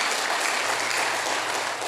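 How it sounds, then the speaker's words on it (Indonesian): A church congregation applauds the musicians, a dense, steady wash of clapping from many hands that fills the room at full strength from start to finish. "Tepuk tangan buat mereka."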